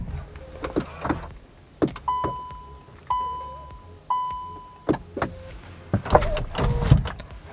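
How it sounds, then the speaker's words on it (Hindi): A Hyundai Elite i20 chimes three times with a clear electronic buzzer tone as the door opens, set among clunks and knocks of the door and power window, close up and without speech. "एक जैसे दरवाज़ा खोलते हल्की सी बजर की आवाज़ आएगी, इसका मतलब कि पावर कट हो गया है।"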